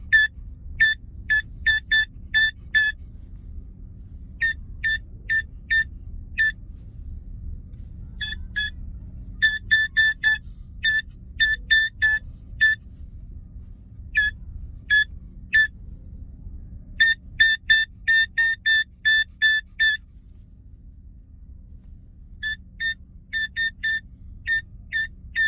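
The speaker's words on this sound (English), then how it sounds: "Getting phone beeps?" Repeated electronic phone beeps sound in short rapid bursts, pausing and resuming over and over, clear and close above a steady low rumble of engine noise during a ferry ride home.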